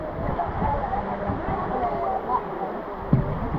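A waterfall pours down with steady, broad rushing water close by, the roar holding a constant level throughout, with a brief louder splash near the end.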